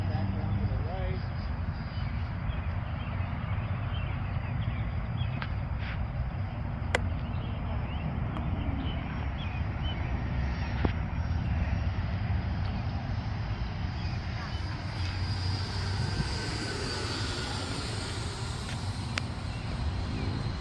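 An FMS BAE Hawk 80mm RC jet with an afterburner flies at dusk, its steady electric ducted-fan roar holding at a fairly constant level throughout, with wind on the microphone and no speech.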